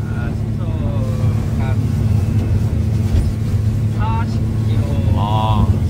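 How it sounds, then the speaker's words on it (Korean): A boat cruising at 23 knots out of Mokpo harbour, with a loud, steady engine drone and rushing water from the hull splitting the sea, carrying on throughout. A few faint tonal voice-like sounds rise over the rumble. "엄청 물살이 갈라지고 있고"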